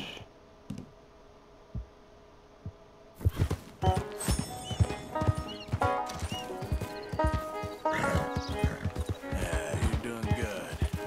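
Steady clip-clop of horse hooves trots along with sharp rhythmic clicks, a horse whinny rising in the mix, with a voice talking at times, in Red Dead Redemption 2.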